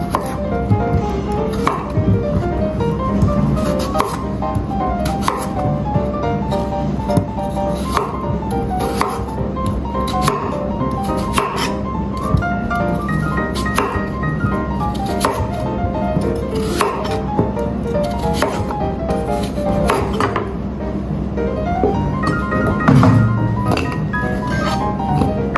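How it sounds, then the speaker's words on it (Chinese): A kitchen knife chops washed sweet potato into rolling-cut chunks on a cutting board, giving a steady run of crisp, evenly paced thuds that continues throughout under light background music. "地瓜洗净外皮，滚刀切块"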